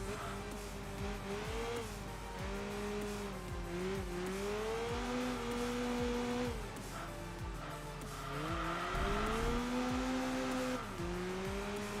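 Race car in the Enthusia Professional Racing video game with a 2-liter engine, revving hard through gear changes and braking with tire squeal, the engine note rising and dropping repeatedly, loud and continuous with no talk.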